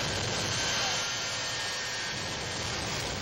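A 1984 Peterbilt truck powered by two Westinghouse J34 jet engines roars with a loud, steady broadband jet howl and a faint whine, continuous throughout, with voices faintly under it.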